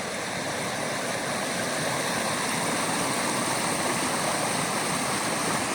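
A stocked river rushes past close by in a steady, dense, unbroken flow, with no voices and no pauses.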